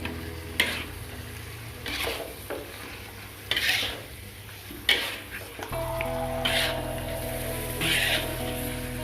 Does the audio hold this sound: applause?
no